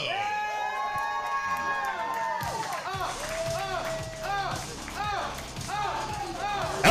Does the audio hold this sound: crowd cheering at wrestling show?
yes